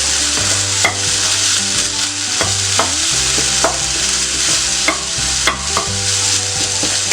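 Kothu chapathi being mixed and stir-fried in a pan, a loud continuous sizzle broken by repeated scraping and stirring clatters of a spatula against the pan.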